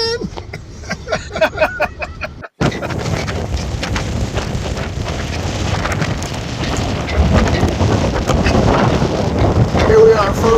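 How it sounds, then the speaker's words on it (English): Strong wind buffets the microphone aboard the Staten Island Ferry as a loud, continuous roaring rumble. It follows a short stretch of people talking. "We are on the Staten Island Ferry, and it's probably windy as fuck. You can't hear a thing I'm saying."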